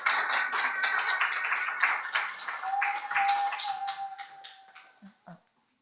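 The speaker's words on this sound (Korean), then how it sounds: "박수로 맞이해 주세요." A school admissions-session audience claps to welcome a vice principal, dense applause with scattered claps that thins out toward the end, a faint sustained tone running underneath.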